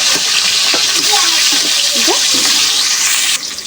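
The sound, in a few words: fish frying in oil, turned over until browned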